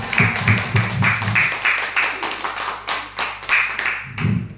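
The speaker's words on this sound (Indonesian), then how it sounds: "Tepuk tangan." A group claps hands in rhythmic bursts during a positive-culture training session, sharp repeated claps falling into a steady beat, close and loud, with voices murmuring or chanting low beneath them at times.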